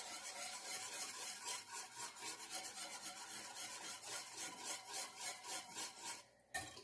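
Something is rubbed repeatedly against a cornstarch-covered dish rag, giving a rhythmic rasping scrape in even strokes, close and moderately loud, with no speech.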